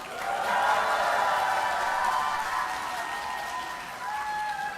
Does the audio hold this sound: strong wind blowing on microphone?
no